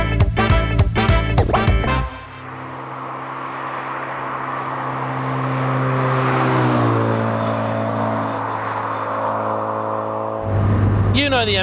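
A Japanese-market Mazda MX-5 Unos Roadster, about 35 years old, revs loudly up close, then settles into a steady, swelling engine drone that rises and falls in pitch before a final sharp rev.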